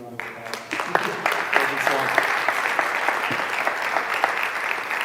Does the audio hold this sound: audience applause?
yes